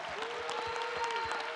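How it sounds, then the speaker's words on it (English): An audience at a church event offers a brief, polite round of applause, a dense but modest wash of clapping that holds evenly for under two seconds, with a faint sustained tone in the background. "Now you just did what I call a courtesy clap."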